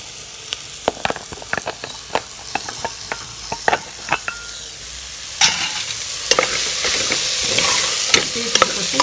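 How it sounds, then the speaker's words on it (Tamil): Beetroot with turmeric being stirred and sautéed in a pan, with a steady sizzle under repeated sharp scrapes and clinks of the spoon against the pan, the frying growing louder partway through. "பீட்ரூட் கொட்டி நல்லா ஒரு வதக்கிட்டு நல்லா வதங்கிருச்சு."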